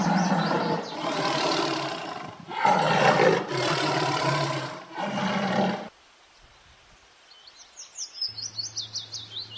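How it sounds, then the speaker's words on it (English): A tiger gives several loud, rumbling roars in a row, each one long and close. After the roars comes a short quiet gap, then a faint rhythmic chirping. "T for tiger."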